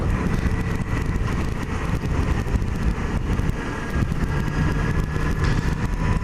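Yamaha XJ6 Diversion motorcycle, a 2012 model, with its engine running steadily at close range, a continuous low rumble mixed with outdoor wind noise, and no one speaking.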